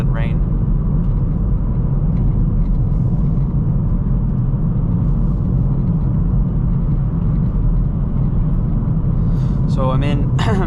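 Hyundai i30N Facelift hatchback cruising in normal drive mode, a steady low engine and road rumble running continuously inside the cabin, with a brief voice near the end.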